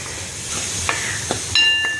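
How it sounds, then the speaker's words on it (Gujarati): Wheat flour being stirred into hot ghee for Gujarati sukhdi makes a soft, continuous sizzle with a few scraping strokes of a spoon against the pan, close and fairly loud, ending in a brighter metallic scrape. "આપણા આટા નાખી દઈએ એને મસ્ત રીતે હલાવીએ"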